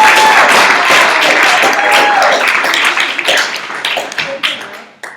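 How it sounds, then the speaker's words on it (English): A workshop audience in San Francisco claps in a dense burst of applause that stays loud for about three seconds, then thins into scattered claps and fades, with some voices mixed in. "Let's give them an applause for being"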